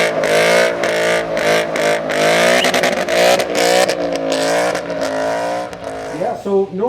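A 2012 Ford Mustang Boss 302 V8 rumbles loudly and steadily at close range, its engine note rising and falling slightly over several seconds while people talk over it.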